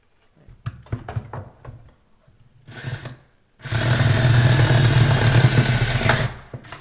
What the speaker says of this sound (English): So I guess I got to drill out these rivets